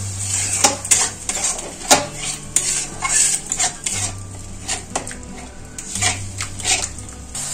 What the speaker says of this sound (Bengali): অল্প একটু জল দেব, অল্প একটু চিনি দেব, আর একটু মশলাকে কষিয়ে নেব